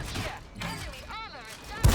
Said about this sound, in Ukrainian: То Т-28 по нам стріляє.